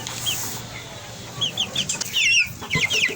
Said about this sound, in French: J'ai quelques poussins ici que je suis en train d'engraisser.